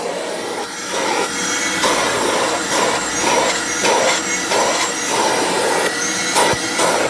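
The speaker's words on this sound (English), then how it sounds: "Time to hoover it out." A hoover runs continuously while vacuuming the interior of a Rover 75, a loud steady whine that rises and falls in regular surges as the nozzle moves over seats and carpet.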